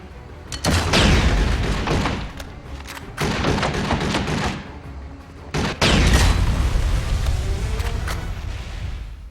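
Grenade blasts pound an armored APC in the shooter game 007 Blood Stone: three heavy, booming thuds land a couple of seconds apart, each ringing out into rumbling debris and gunfire noise, loud and close.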